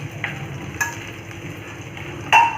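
Whole garam masala spices and cumin seeds frying in oil as they are stirred in a pan, a soft sizzle with a few light scrapes and clicks of the spoon, one sharper knock near the end.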